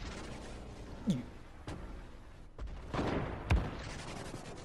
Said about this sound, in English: Somebody trying to snipe